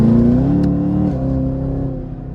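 A Chevrolet Camaro ZL1 muscle car in a video game revs, its deep, steady engine drone rising in pitch and then holding a sustained note, loud and close with no voices.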